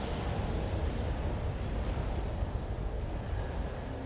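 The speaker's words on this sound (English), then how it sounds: "The Strider's blowing itself up." A Strider machine blows itself up in the video game Armored Core 6, a continuous loud, roaring rumble of explosion that fills the whole stretch with dense, steady noise and no talking.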